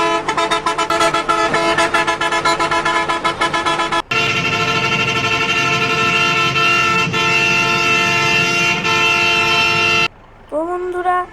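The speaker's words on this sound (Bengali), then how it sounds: "আপনারা এমন হর্ন পাবেন" Bangladeshi-style bus horn set in the Bus Simulator Indonesia game, blaring loud sustained musical multi-tone honks that change pattern midway and end in a brief rising tone.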